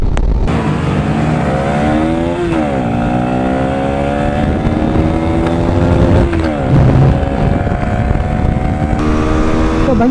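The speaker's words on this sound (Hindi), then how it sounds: "अबे भाई सारी बाइकें तो आगे निकल गई।" Apache 4V 160, Pulsar and FZ V3 160cc motorcycles race close by, engines loudly revving with repeated rising and falling pitch sweeps as gears shift, continuous throughout.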